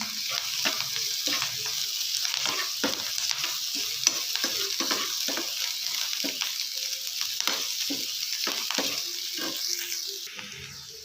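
Onions fry with ginger garlic paste in a pan for a potato gobi manchurian, giving a steady sizzle broken by frequent scraping strokes of a spoon stirring the mixture, with no talk.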